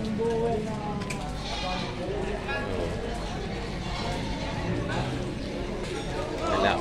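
Goats bleat repeatedly inside a goat pen, overlapping calls mixed with farmyard noise while people talk nearby.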